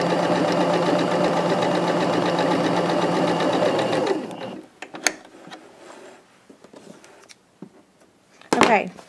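A sewing machine stitching a rag quilt purse, running with a steady, close mechanical whirr for about four seconds, then stopping, followed by quieter handling clicks and rustles.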